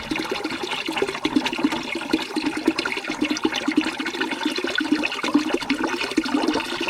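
Water pours and splashes steadily from a nearly empty tank into a container, a continuous gurgling drain with no talking.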